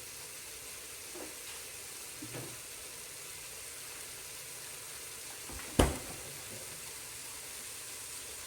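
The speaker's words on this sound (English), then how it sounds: "We're searing the meat right now." Beef searing in a pan over a backyard BBQ pit, a steady faint sizzle and fry running throughout with a few soft knocks and one sharp clank near the end.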